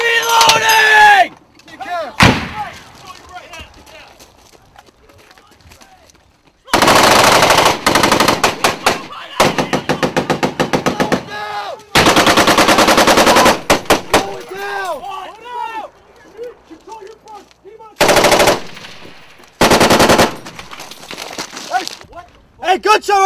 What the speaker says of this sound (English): Hey, gunshot right here!